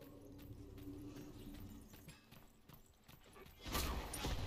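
Rapid horse hooves clip-clop during SMITE gameplay with Ishtar, a steady galloping patter under game effects that swells into a louder burst near the end.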